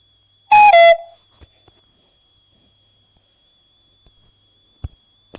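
A phone alarm set off by a MacroDroid charger theft macro gives one short, shrill, whistle-like tone lasting about half a second, then near silence with a faint steady high hum and a couple of tiny clicks.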